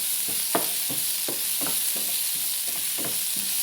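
Onions and tomato sautéing in a pan for stuffed squid, a steady sizzling hiss broken by regular scraping strokes of a spoon stirring the mixture, close and moderately loud with no voices.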